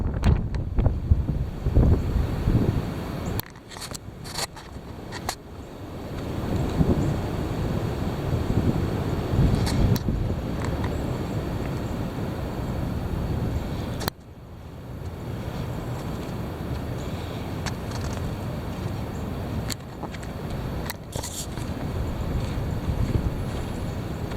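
Heavy wind blows hard against the microphone in a continuous low, rumbling roar that surges and eases in gusts, with no one talking.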